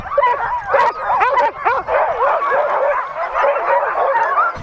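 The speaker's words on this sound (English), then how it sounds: "Jesus, there's so many dogs." A crowd of dogs in a snowy Arctic town yapping, whimpering and howling together in a dense, continuous chorus, close and loud, with several voices overlapping throughout.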